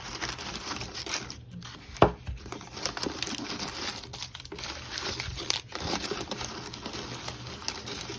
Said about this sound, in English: I'm going to unwrap each and every single one